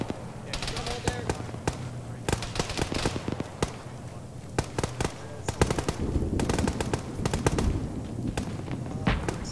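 Rapid bursts of machine gun fire aimed at a BTR armored vehicle in the military shooter Arma, loud, dense volleys repeating throughout with radio-style voices talking underneath.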